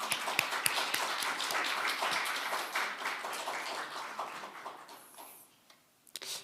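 Audience applause welcoming a member of the National Assembly at a kindergarten-themed book concert, with dense steady clapping from a hall crowd that thins out and fades near the end, followed by a few isolated claps.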